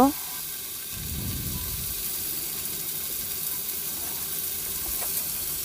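Steady loud sizzle of masala frying in a pan as chopped tomatoes and a spoon of salt go in, with a brief burst of stirring and spattering near the start and hissing throughout.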